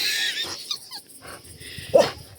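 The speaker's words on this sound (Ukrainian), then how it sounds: "Тузік, гавкай." A dog whines and lets out a short, strained bark close by, with wheezy whimpering sounds around it.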